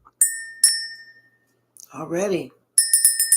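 A small handheld bell rung to clear energy gives two separate bright dings that ring out and fade, then a short burst of rapid repeated rings, with a brief spoken word between them.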